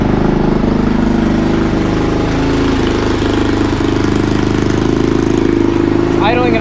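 A Boom Vader Grom clone motorcycle engine idling a little high at about 3,000 rpm, a steady close buzzing putter that runs throughout while someone talks over it.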